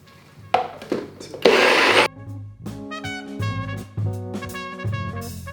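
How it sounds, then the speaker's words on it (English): A NutriBullet blender grinds hazelnuts into nut butter, its motor whining in loud bursts that start and stop, with harsh grinding surges and steady humming stretches between pauses. "Now the NutriBullet type blenders are good for smaller amounts."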